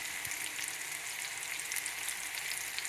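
Spinach fries in a pan with a steady, soft, even sizzle, like light rain, that continues without a break and has no talking.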